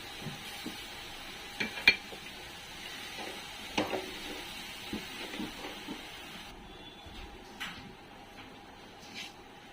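Soaked lentils stirred into shepu (dill) greens in a pan, a spoon scraping and clinking against the metal in irregular strokes over a faint, steady sizzle.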